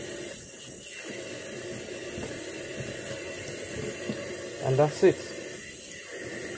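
Water runs steadily from a tap into a sink while hands are rinsed beneath it, a continuous close hiss with a few brief splashing bumps near the end, under a short spoken line.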